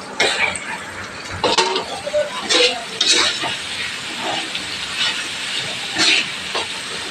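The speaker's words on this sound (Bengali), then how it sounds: "এখন পেঁয়াজগুলো একটু ভেজে নিই।" Onions fry in a pan, giving uneven bursts of hissing sizzle that rise and fall close by, with no voices.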